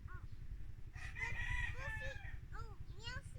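A rooster crows close by, one drawn-out cock-a-doodle-doo followed by shorter clucks and crow fragments from chickens, over a low rumbling background hum.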